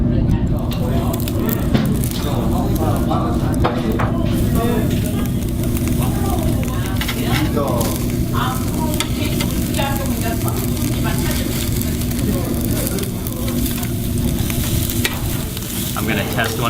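Marbled Jangsu beef grills over charcoal, flaring up from its fat, with a steady sizzle and crackle running throughout, mixed with restaurant clatter and background voices.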